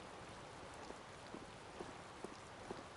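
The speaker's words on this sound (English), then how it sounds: "I believe the ongoing rain and wind are being caused by a Blastia." Rain falls in the video game Tales of Vesperia as a faint, even hiss with occasional soft droplet ticks, steady and distant with no other sounds.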